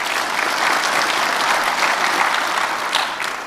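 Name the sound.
audience applause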